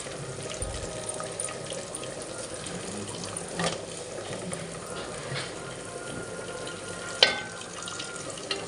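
Thinly sliced onions fry in a pan for tomato rice, a low continuous sizzle with occasional faint stirring scrapes and one sharp clink near the end, no speech.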